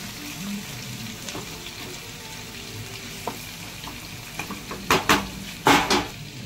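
Seasoned ash gourd frying in hot oil, a low continuous sizzle with a few louder clattering stirs and scrapes of a utensil against the pan near the end.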